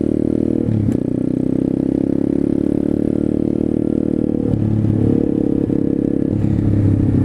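A pit bike engine drones loudly while riding on a road, with steady revving, shifting pitch and occasional rattling clatter throughout.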